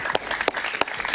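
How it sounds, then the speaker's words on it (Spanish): Studio audience applause on a Spanish-language TV talk show, a short steady burst of clapping with several sharper claps standing out, fairly close and filling the whole moment. "Un gran aplauso para Luis Justi, por favor."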